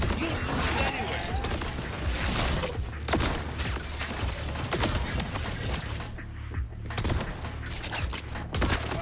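Shotgun fire in the video game Borderlands: dense, rapid bursts of blasts and impacts in a busy firefight, loud and continuous with crashing debris and game effects throughout.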